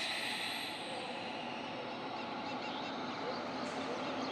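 The Krishnanagar–Azimganj passenger train rolls toward the car shed with a steady, close rumble and a continuous high metallic squeal from the wheels that runs through the whole stretch.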